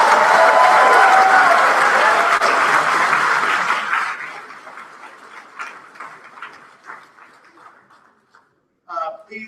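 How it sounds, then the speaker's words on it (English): Audience applause for the top 20 speakers at a student speech competition awards night, a loud dense ovation that fades over several seconds into scattered claps, followed by a brief burst of voices at the end. "Can we give one more round of applause for our top 20 speakers"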